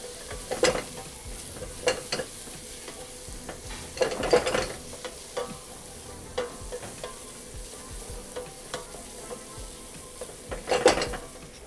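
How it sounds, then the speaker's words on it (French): Shallots and a generous three spoonfuls of pepper fry in a pan for steak au poivre, giving a steady close sizzle broken by scraping stirs, with louder bursts around the fourth and eleventh seconds. "Donc on va laisser fondre les échalotes. Et après, le poivre, on laisse légèrement cuire"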